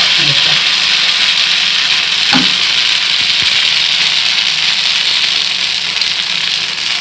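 Uttapam batter with vegetables frying in plenty of oil on a dosa griddle, a steady hissing sizzle that runs continuously, with a couple of faint clinks and soft voices in the background.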